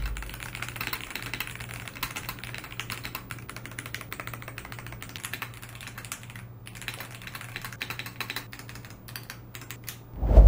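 Fast, continuous clacking from typing on a DAREU mechanical keyboard fills the stretch with dense, rapid keystrokes close by, ending in a louder thump, and no voices are heard.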